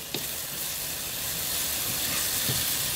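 Stir fry sauce and chicken sizzle hard in a wok on a Volcano portable grill, a loud, steady hissing fry with a brief clatter near the start, alone and without talk.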